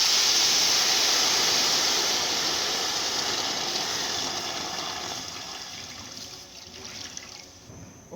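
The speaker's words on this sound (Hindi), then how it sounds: "अब हमने आग जला ली है नीचे और इसमें आधा लीटर पानी शामिल करेंगे।" Half a litre of water is poured into a cooking pot over a fire while making rice kheer, a close, steady pouring rush that gradually fades and thins toward the end.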